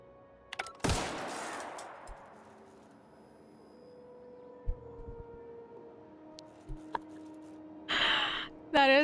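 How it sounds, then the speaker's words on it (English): A single sharp gunshot with a ringing decay goes off in The Outer Worlds video game, followed by quiet ambience, scattered small clicks and brief vocal sounds near the end. "That is like the 5th time that I've accidentally shot something"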